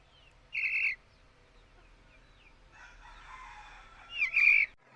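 A black desi rooster crows twice, loud and close, with a quieter rustle between the calls and little else in the background.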